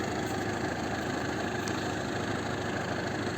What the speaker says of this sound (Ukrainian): Трактор тягне добре.